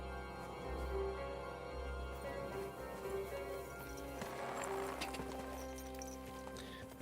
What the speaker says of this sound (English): Now let's get on the horse and let's have a look